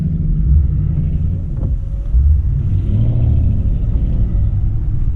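A group of Ford Crown Victoria Police Interceptor cars pulls away together at a car meet, with a heavy low engine rumble, some revving and wind buffeting the microphone throughout.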